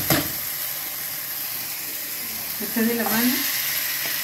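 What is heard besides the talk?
frying and stirring ingredients with ají mirasol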